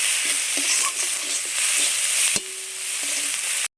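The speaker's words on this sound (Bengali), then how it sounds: "মশলাটাকে নেড়ে চেড়ে বেশ সুন্দর করে কষে নিয়েছি" A spice masala of turmeric, chili powder, green chili and coriander powder sizzles loudly in a pan while being stirred, with a steady hiss, soft scraping strokes and a few spoon knocks close up.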